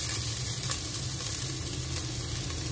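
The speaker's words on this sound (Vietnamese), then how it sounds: "Để mình xào cho nó ra cái màu vàng của bột cà ri đó" A steady, close sizzle of curry powder stir-frying in a hot pan, constant and crackly with no voices.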